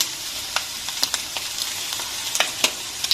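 Egg noodles stir-fried with soy sauce in a hot pan, a steady close sizzle broken by scattered scraping clicks of a spatula against the metal, with no voices.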